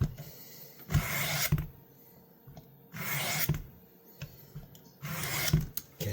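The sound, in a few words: sharpening sweeps of a pocket knife on a coarse stone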